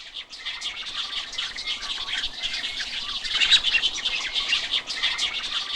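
A dense, continuous chorus of many birds chirping and calling at a great cormorant nesting colony in pine trees on an island in Paldang Lake, South Korea, loud and overlapping throughout, with no pauses.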